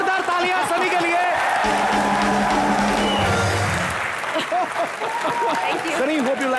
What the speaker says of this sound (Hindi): एक बार जोरदार तालियां सनी के लिए।